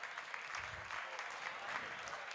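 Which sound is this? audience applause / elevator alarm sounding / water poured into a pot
audience applause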